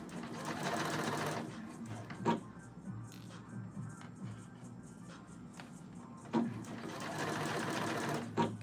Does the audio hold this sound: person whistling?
no